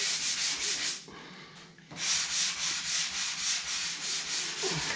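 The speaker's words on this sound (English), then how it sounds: "This is going to take a little bit more sanding than my patches" Hand sanding of a repaired drywall corner bead, with rapid, rhythmic back-and-forth scraping strokes close by, a brief pause near the middle, then steady strokes again.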